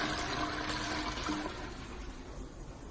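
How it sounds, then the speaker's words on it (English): A toilet gives a large, full flush, a loud, close rush of water that churns steadily and then eases slightly toward the end, with no talking. "see which way the toilet flushes"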